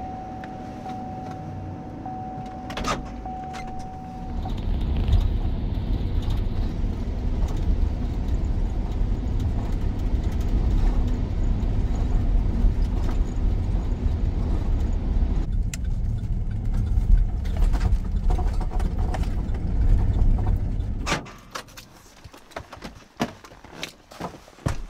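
Van engine starts and runs steadily for most of the stretch, a smooth mid-pitched hum with light revving as it drives off, then cuts out near the end, leaving quieter handling noises.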